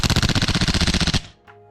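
An airsoft gun firing a rapid full-auto burst outdoors in a garden, about a dozen evenly spaced loud shots over a second before cutting off, followed by faint rattling.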